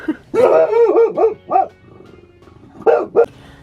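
A dog barks close by in a short burst of several sharp woofs, goes quiet for about a second, then gives two more barks.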